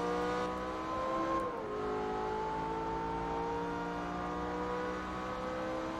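A racing car engine in Forza Motorsport 3 holds a steady, droning high rev with smooth tonal harmonics, dipping slightly in pitch partway through, at moderate volume with no talk.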